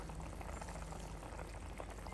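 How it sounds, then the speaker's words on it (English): Hot pot broth bubbles steadily as prawns go in, a close, constant low boil with soft liquid churning. "As you can see here, I'm adding in the prawn"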